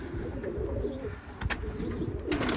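Pigeons coo in a low, repeated rhythm against steady bird ambience at a loft, with a few brief flutters or taps near the end.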